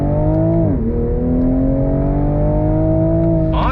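A Toyota GR Supra with piped-in exhaust sound pulls hard from a dead stop, its engine note climbing loudly and steadily through the revs, with a brief dip like a gear change early on, then rising again.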